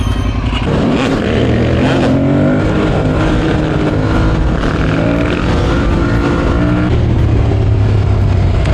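An Aprilia Tuareg motorcycle engine revs hard and close in Naples traffic, a loud, steady roar with rising and falling pitch that runs for the whole stretch.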